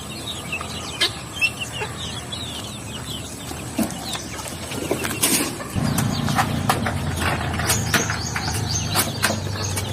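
Native hens cluck and chatter nearby in a steady farmyard scene, with scattered short calls and some background birds, growing busier partway through.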